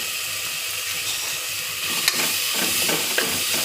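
Ginger garlic paste with a little turmeric frying in a pan, a steady close hiss and sizzle with faint stirring scrapes and no talking.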